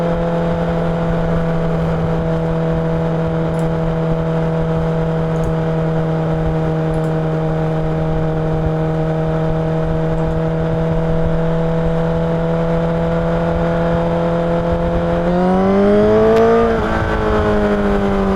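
A Honda CBR1000RR SP1 sportbike's very loud exhaust drones at a steady high idle for a long stretch, then revs up sharply near the end with a rising whine.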